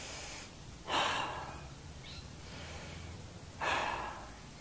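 Slow, deep breaths during a yoga stretch held outdoors in a park, two audible inhale-exhale swells spaced a few seconds apart, close and fairly soft over a steady background hum.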